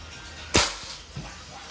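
A Crosman MagFire Ultra .177 airgun fires one sharp, close crack, followed by a faint thud.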